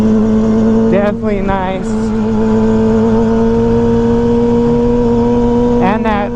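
Invader Jigsaw 750 RC car with a steady engine drone, a strong continuous hum holding throughout at close range, while someone talks briefly over it.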